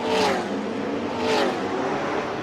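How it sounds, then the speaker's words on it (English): Race car engines roar at the Bangsaen Grand Prix street circuit, a loud continuous drone that swells twice as cars pass close by, with rising pitch sweeps under a steady mechanical whine. "You can probably hear some of that roar right through my microphone right now"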